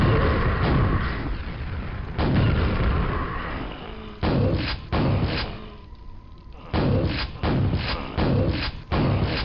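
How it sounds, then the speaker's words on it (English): Rocket launcher shots and blasts in the first-person shooter Quake, a run of loud, booming thuds in quick bursts, several close explosions with short gaps between them, no talking. "I'm gonna use my rocket launcher."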